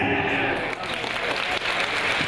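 A banquet-hall audience at the Scotiabank Chinese New Year Gala 2012 in a Toronto ballroom breaks into dense, sustained applause that fills the room at an even, loud level throughout.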